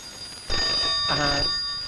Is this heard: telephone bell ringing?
yes